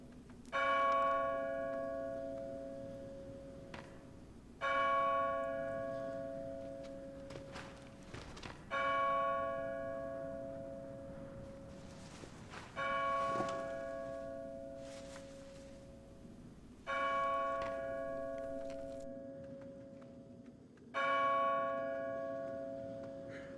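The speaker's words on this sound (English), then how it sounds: "And that bell chimes on forever." A bell in the Splinter Cell video game, on the Presidential Palace mission, chimes repeatedly with six ringing strikes at roughly four-second intervals, each decaying slowly before the next, over a quiet ambient background.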